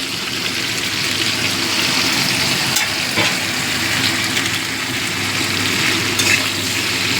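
Steady sizzling from chopped tomatoes and vegetables frying in a pan, with occasional stirring sounds and no talking.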